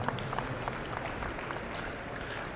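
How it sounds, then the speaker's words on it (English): Scattered clapping from an audience at a miniature Hereford junior steer show, a soft, dense patter of many hands continuing evenly throughout. "Let's give them a round of applause,"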